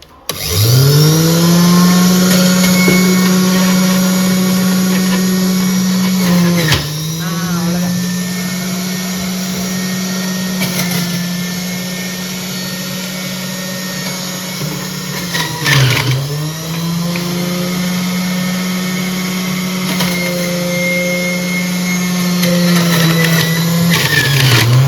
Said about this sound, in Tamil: ஃப்ளிப்ஸு ஜூஸர் தாங்க நான் வச்சுருக்கேன், அதில் தான் இன்றைக்கி போட போகிறேன்.